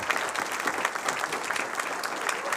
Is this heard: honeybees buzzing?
no